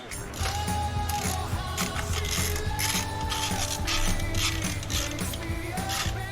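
Screws being tightened on an HPI 70mm intake manifold and throttle body on a Harley-Davidson, with steady ratcheting and clicking mechanical sounds over a constant low hum throughout.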